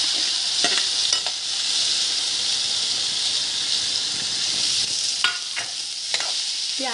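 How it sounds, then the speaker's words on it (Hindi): Onions fry with curry leaves and turmeric in a pan over high heat, a loud continuous sizzle and hiss broken by several scraping stirs of a spatula, with no talking. "प्याज को बहुत ज़्यादा खड़ा नहीं भूनना है, हल्का सेकना है।"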